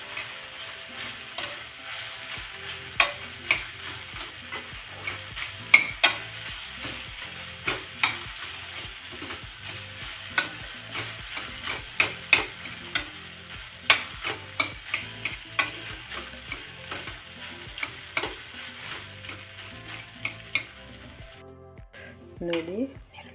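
Soaked flattened rice (avalakki) is stirred in a pan, making repeated soft, squishy scrapes and taps in an uneven rhythm over a faint sizzle, close and steady for most of the stretch.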